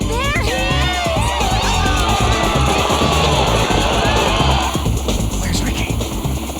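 Excited cartoon crowd cheering and shouting in a loud, dense roar of whoops and screams, with voices talking over it before it drops off near the end.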